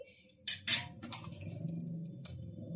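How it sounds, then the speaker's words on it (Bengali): A metal lid clanks onto a pressure cooker pot holding salted, turmeric-tinted water for boiling eggs, giving two quick bright clinks followed by a faint low rattle and kitchen hum. "ঢাকা দিয়ে দিচ্ছি, ঢাকা দিয়ে আমি সিদ্ধ করতে দিচ্ছি।"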